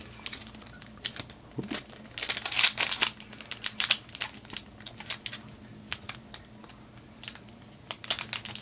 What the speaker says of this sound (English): Do you want to open the last premiere pack, Myles?